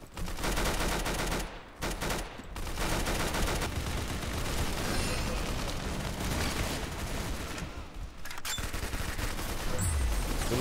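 Automatic Glock fire in a video game: a dense, continuous barrage of rapid shots that fills nearly the whole stretch, broken by two brief gaps early on, loud and close.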